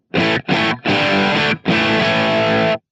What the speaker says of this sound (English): Then I have a rear rhythm guitar kind of distortion